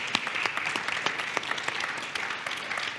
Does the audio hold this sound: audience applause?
yes